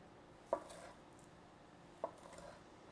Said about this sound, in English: I'm using barely any strength and just the one cutting motion, and it is cutting through the entire pork chop